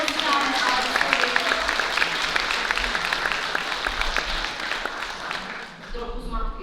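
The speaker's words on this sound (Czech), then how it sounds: "Tak zatleskáme Alexovi" A crowd claps steadily and evenly for a preschool child, the applause fairly close and sustained, with some voices mixed in before it fades slightly at the end.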